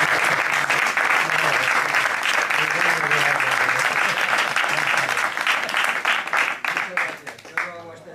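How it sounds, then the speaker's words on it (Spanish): An audience breaks into dense, sustained applause that stays loud for several seconds before thinning into scattered claps near the end. "creo que tú, como participaste en el programa, por lo menos te mereces un aplauso"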